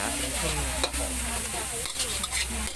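Holy basil pork meatballs are stir-fried in a wok at a Thai street food stall, loud continuous sizzling with scraping, clattering stirs and a few sharp metallic knocks, no talking.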